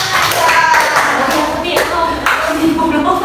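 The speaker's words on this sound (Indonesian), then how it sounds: "Yeay, tepuk tangan." Fourth-grade children in a primary school maths class clap together in a loud, dense burst that carries on steadily, with voices mixed in.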